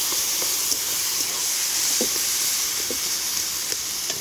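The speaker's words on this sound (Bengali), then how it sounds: "এবার কচুর পাতাটা এর মধ্যে দিয়ে দেব, দিয়ে ভালো করে নাড়তে থাকবে" Taro leaves being fried and stirred in a pan of reddish browned ingredients, giving a loud, steady close sizzle and hiss, with occasional soft knocks and scrapes of a spoon throughout.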